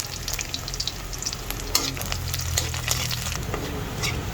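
Garlic sizzles in hot oil in a pan, a dense crackling fry with scattered sharp pops and the occasional scrape of stirring, close and continuous.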